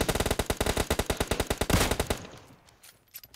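Machine gun fire in a video game: a loud, rapid string of roughly twenty evenly spaced shots that stops abruptly, followed by a fading tail and a few faint clicks.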